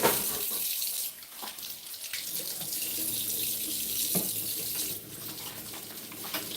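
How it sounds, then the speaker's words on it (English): A faucet runs steadily while hands are washed at a kitchen sink, with close splashing water that shifts a little as the hands move under the stream. "Let's wash hands and we start."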